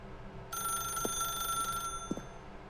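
A telephone rings in The Stanley Parable video game, a steady electronic ring running for about one and a half seconds over a quiet room tone, with a couple of soft thumps around it.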